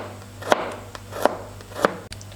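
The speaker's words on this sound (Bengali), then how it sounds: "এখন আমি রসুন কুচি কুচি করে নিচ্ছি" A knife chops garlic on a board in three distinct, evenly spaced taps, close and moderately loud over a quiet background hum.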